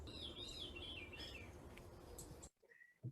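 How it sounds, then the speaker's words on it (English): Birds sing outdoors in a faint, distant chorus of warbling chirps and tweets that continues for a few seconds, then drops to near silence with one last brief call. "Thanks to BirdNet, I know exactly which birds I'm hearing."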